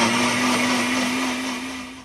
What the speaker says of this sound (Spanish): A moler.